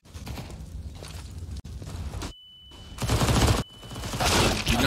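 Rapid pistol gunfire from a Counter-Strike match at a professional esports event, with bursts of sharp shots and footsteps, broken by brief gaps, loud and close.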